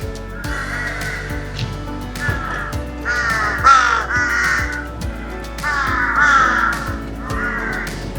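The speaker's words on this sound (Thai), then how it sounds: "อีกาเยอะจริง ๆ เลย" Several crows caw loudly and repeatedly in a Bangkok park, harsh calls coming in bursts close by, with short pauses between rounds.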